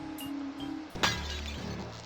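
Glass smashes in the Sly Cooper video game: a sharp, bright shatter that bursts suddenly mid-clip and trails off into tinkling debris over a steady low game ambience.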